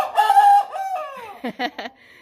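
A 16-week-old American Bresse cockerel crows once nearby, a loud drawn-out call with a falling tail, followed by a few short clucks.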